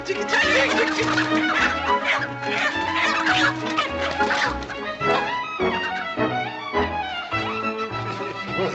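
Hens cluck and squawk in quick, repeated bursts up close, layered over a busy musical backing.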